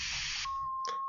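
A phone gives off a single steady electronic beep that holds for about half a second, then stops with a faint brief chirp just after, over quiet room noise with no talking.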